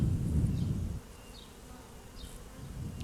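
Bees buzz around an opened beehive during requeening, a close, loud drone at first that drops to a quieter hum with scattered bees passing near, with no talking.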